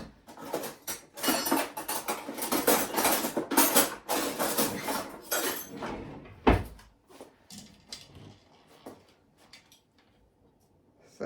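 A spoon scoops through thick, set homemade Greek-style yoghurt in a pot, with a run of close clinks and scrapes against the pot before the sounds thin out into quiet soft taps.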